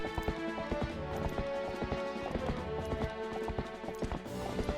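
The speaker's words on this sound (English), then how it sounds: "And you just want to be able to call your horse." A horse gallops in the video game The Legend of Zelda: Twilight Princess, a fast, steady run of close hoofbeats over layered game music.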